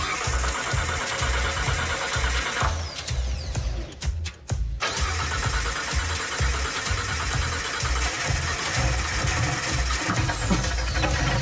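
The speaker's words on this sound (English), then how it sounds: "I need to know if the engine wants to run again" A rebuilt car engine cranks and fires up, settling into a loud, rhythmic lumpy idle with a steady low pulsing beat, a brief stumble and dropout partway through, then continues running close by.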